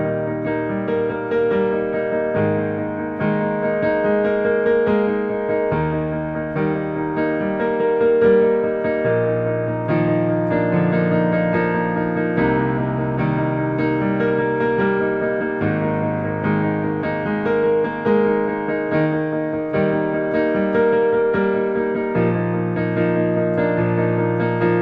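Piano playing the powerful bridge of a song, a steady stream of full, ringing chords that move through changing harmonies, close and loud and continuous, with no voices.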